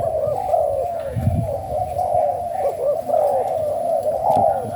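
A spotted dove of the Malay strain coos steadily and close, its soft rolling phrases repeating over a low rumbling background with no voices.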